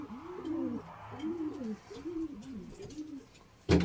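Home-raised pigeons coo nearby in repeated soft, rolling calls, several phrases in a row, ending with a brief loud rustle or flap.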